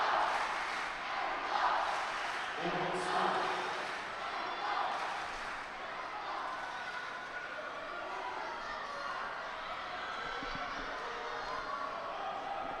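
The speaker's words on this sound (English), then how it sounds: "Crowd trying to get behind Oliveira now." Arena crowd at a judo Grand Prix in Cancun rumbling and cheering behind a fighter in a tense golden-score bout, a steady broad roar with swells, under commentator talk.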